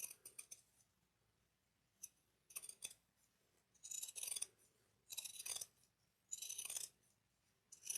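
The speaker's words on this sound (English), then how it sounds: "Make sure you only trim the seam allowance, don't trim inside." Sharp scissor snips trim the fabric seam allowance of a dual-compartment cross-body bag near its zipper panel. Five or six crisp, close cuts come in short bursts separated by quiet pauses.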